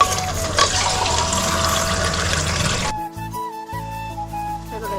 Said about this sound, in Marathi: पाणी घालते ह्याच्यात